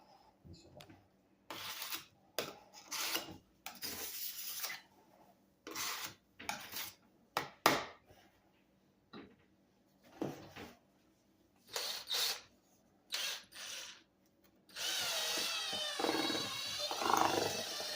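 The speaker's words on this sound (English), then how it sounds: "this is going to be our first run at mixing the pan of mud first" Epoxy plaster mud being mixed in a pan, with irregular scraping and sloshing strokes in short bursts separated by pauses, ending in a longer continuous stir.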